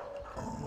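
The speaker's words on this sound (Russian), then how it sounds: "Это охотничья собака." A hunting dog, a rottweiler mix kept at a dog shelter, gives a faint, brief low whine or growl against quiet background noise.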